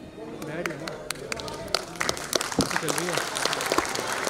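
Audience clapping at a community gathering at Civic Centre, New Delhi, a steady patter of many hands running throughout, with a voice talking over it.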